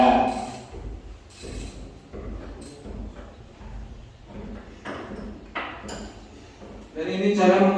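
A socket ratchet wrench turns and tightens a bolt on an engine, giving repeated bursts of metallic clicking and rasping at an uneven pace, with a voice talking intermittently between them.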